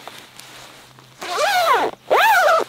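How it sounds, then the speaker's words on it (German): A two-way zipper on a lightweight softshell jacket is pulled in two quick, close strokes, each a rasping zip rising and falling in pitch, with a short pause between them. "Zwei Wege Reißverschlusssystem."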